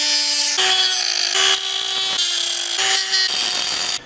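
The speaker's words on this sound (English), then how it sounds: "Now this sharpener is rated for lawnmower blades." Bench blade sharpener rated for lawnmower blades grinding a metal blade, a loud continuous abrasive whine with steady tonal ringing, shifting pitch slightly in several passes and cutting off near the end.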